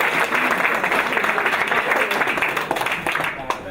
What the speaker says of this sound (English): Round of applause. Another round of applause.